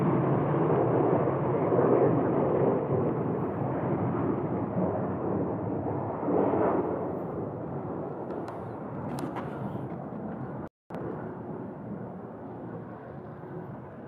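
A former Delta Boeing 767 jet takes off, a broad, loud engine roar that holds steady and slowly fades over many seconds, heard alone from a distance.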